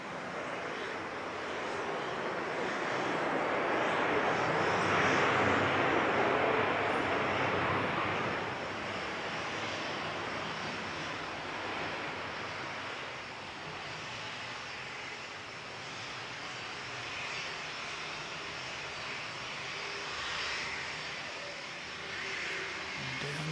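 A Jetstar airliner arriving from Melbourne at an airport runway on a windy day, its engines a broad distant roar that swells, peaks, then fades to a steady rumble under gusting wind.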